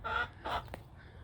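A hen clucks in agitation from a nesting box, giving two or three short, raspy squawks in quick succession, fairly faint against light background noise with no voices.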